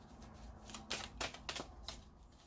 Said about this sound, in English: let's pull another card